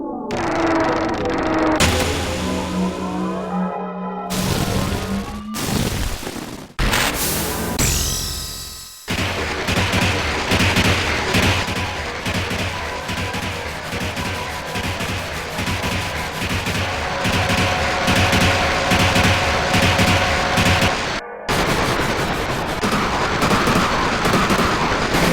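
The Doomtrain summon from Final Fantasy VIII laying down tracks: a dense, loud, continuous barrage of metallic clanks, crashes and rumbling mechanical clatter lasting about twenty-five seconds, with a few sudden bursts and brief drops near the start.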